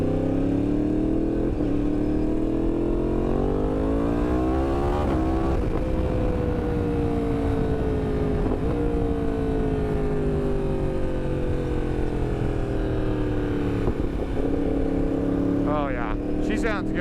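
A Yamaha R1 sportbike fitted with a Yoshimura exhaust revs under way, its loud engine note rising and falling through several throttle sweeps and shifts, with a continuous close drone and a final quick blip.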